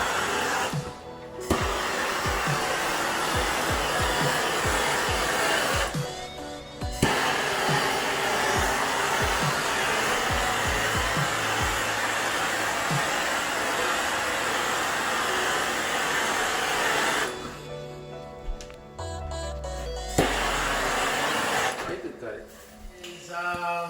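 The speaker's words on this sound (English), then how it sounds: "I just hit it with the torch, as you saw, and now it's just curing." A torch hisses in a steady, loud, close rush of blown flame while heating resin on a kitchen countertop, broken by a few short pauses, with clicks and handling noises near the end.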